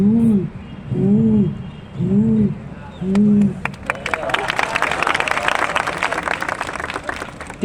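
A blind mimicry performer imitates a pigeon with his voice, giving four rounded, hollow coos in a steady rhythm, followed by a burst of loud audience applause.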